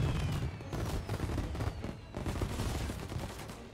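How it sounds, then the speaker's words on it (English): Tommy gun fire in the Mafia Remake video game crackles in sustained rapid bursts with a brief lull, dense and moderately loud, with no talking over it. "he has a fucking Tommy gun"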